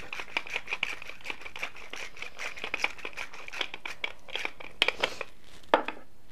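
Rapid crunchy grinding clicks of a pepper grinder repeat in quick bursts, fairly quiet and close, with a few sharper cracks toward the end.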